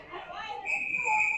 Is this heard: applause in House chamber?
no